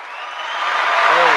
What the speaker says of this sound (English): Hit the applause, Glenn.